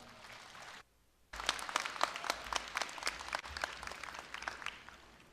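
Loud, sustained applause from a large graduation ceremony audience at Korea University welcoming the university president, breaking out after a brief quiet gap and continuing densely to the end.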